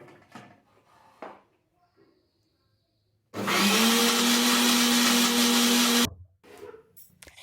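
Kitchen blender grinds garlic cloves and chili with a little water into a paste, a loud steady whir lasting about three seconds, framed by quieter clatter and handling noise before and after.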